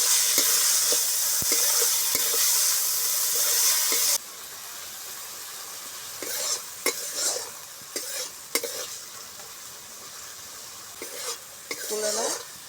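Kulera greens and stems being stirred and sautéed in a hot pan, starting with a loud, dense sizzle that drops away to quieter sizzling with scattered scraping strokes of a spatula against the pan.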